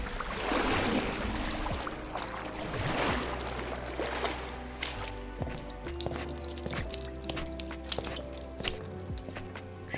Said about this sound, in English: Dripping, dripping, dripping sounds.